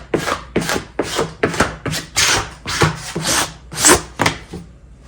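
Wood is smoothed by hand with about a dozen quick, rhythmic rubbing strokes, close and fairly loud, each a short rasping swish during work on homemade blinds.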